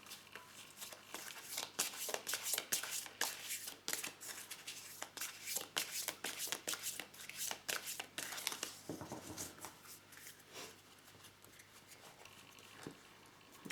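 Tarot cards shuffled and drawn, a rapid stream of soft papery riffles and light slaps heard close and quiet, thinning toward the end, with no voices.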